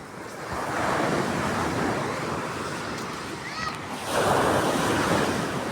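Strong sea waves break loudly and continuously close by, with wind buffeting the microphone, and a heavier surge of surf swells up near the end; no voices are heard over the roar.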